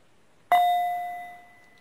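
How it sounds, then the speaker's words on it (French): A small hand bell is struck once to signal that time is up, ringing out in a clear, close metallic ding that decays slowly over more than a second, alone in a quiet room. "Quand le temps sera écoulé, je ferai sonner une petite cloche."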